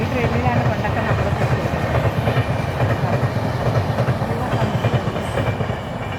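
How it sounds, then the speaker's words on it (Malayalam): Train cars rolling past on a local railway line beside a house in Kerala, a close, loud, continuous rumble with rhythmic wheel clatter that eases slightly at the end, with faint talking underneath. "ട്രെയിൻ പോകുന്നത് കേട്ടോ."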